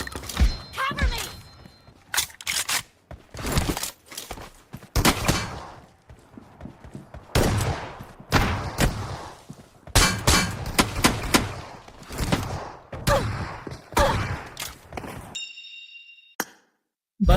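Rapid gunfire bursts from a BGMI team deathmatch, sharp repeated shots coming in clusters with short gaps and a few metallic pings near the end, loud and up close.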